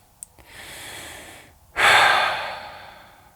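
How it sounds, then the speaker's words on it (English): Two deep breaths come close and alone: first a softer inhale after a tiny click, then a brief pause, then a stronger, rushing exhale or breath that fades out slowly. "taking some deep breaths"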